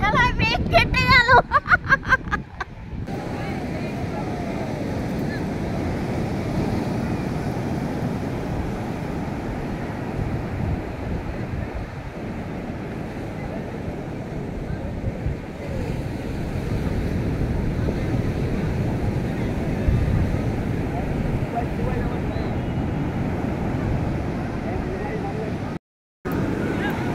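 Sea waves at Digha beach roll in steadily as a broad, continuous wash of surf with wind rumbling on the microphone and people talking over it throughout.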